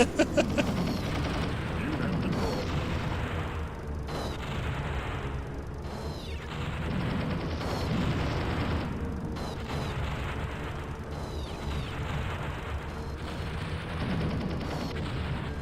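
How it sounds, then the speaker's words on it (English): Heavy booming cannon shots fire at a steady rhythm of a few seconds apart, amid mechanical clanking and game sound effects in Age of Mythology, fairly quiet overall. "The sound of the cannon is terrifying."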